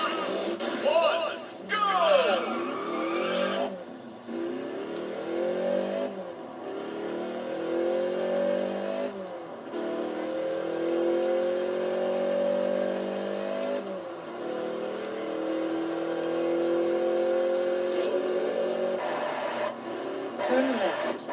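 Car engine revving and shifting through gears in a video game time trial race, rising and falling pitch sweeps, steady and moderately loud, with a person talking over it.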